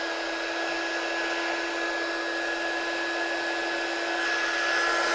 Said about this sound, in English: So let's heat set that, and the gold should come out nice and bright now.